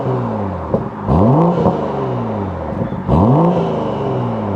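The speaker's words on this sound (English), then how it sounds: "let's rev it in comfort mode first" BMW M340i with its B58 engine in comfort mode, revved twice from a steady idle burble: each blip rises sharply then falls away smoothly, loud and close with no talking.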